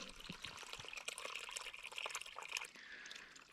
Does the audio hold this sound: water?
yes